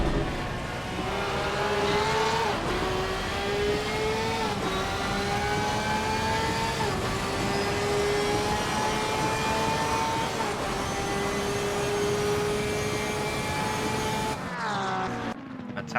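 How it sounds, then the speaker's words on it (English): A Porsche GT3 race car in Assetto Corsa Competizione, racing in a GT3 sprint series, screams close and loud, its engine climbing through gears with sharp shifts and a brief cut near the end. "If we can look behind, there is the Porsche of Dark Knight. Let's have a little listen."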